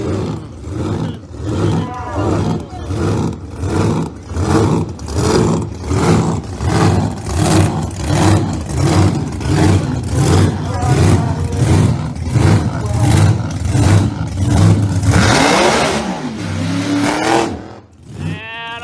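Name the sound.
supercharged drag racing car engine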